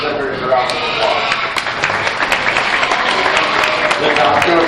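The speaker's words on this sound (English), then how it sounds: "Let's give these exhibitors a round of applause." Crowd applause at a county fair swine show, steady and fairly loud clapping mixed with voices and general arena noise around the show ring.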